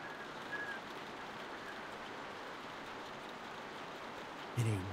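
Steady rain falls in a video game, an even, dense hiss of drops on surfaces that holds throughout at moderate level, with a brief low thump near the end.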